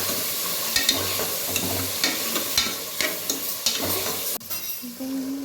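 Ground masala being stirred and mixed into avarekalu (field bean) sambar in a pot, a steady run of close scraping and swishing stirs with light sizzle and a few sharper knocks of the spoon against the vessel.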